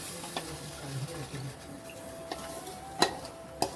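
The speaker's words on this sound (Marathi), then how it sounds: "हे दूध आपल्याला डायरेक्ट ओतायचं त्याच्यात आणि हलवत राहायचं" Milk stirred in a small pot over a gas flame for Konkani kharvas, a quiet scraping of the spoon with a few sharp taps against the pot near the end.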